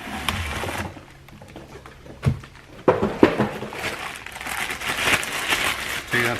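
Plastic wrapping is pulled and crinkled off a new Ryobi P517 Sawzall reciprocating saw, with bursts of rustling and crackling close up, a sharp crinkle near the middle, then steady handling noise to the end.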